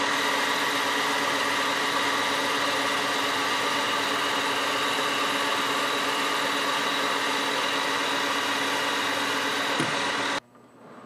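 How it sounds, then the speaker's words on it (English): A metal lathe at about 1200 RPM turns down the outer diameter of a stainless steel flange bolt, a steady machine drone with a faint whine running for about ten seconds before cutting off abruptly near the end; no one speaks. "we're just gonna take 20 thousandths out of the outer diameter just to clean it up"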